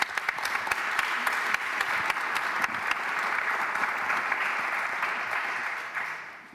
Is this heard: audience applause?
yes